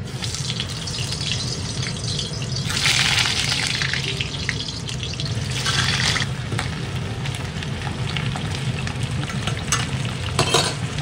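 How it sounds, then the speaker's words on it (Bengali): Potatoes frying in one pan and onions for mutton in another, a steady moderate sizzle with brief louder hissing swells and occasional stirring scrapes, no talk. "একদিকে আলু ভাজছি আর একদিকে মাংসের জন্য একটু পেঁয়াজ ভেজে নিয়েছি"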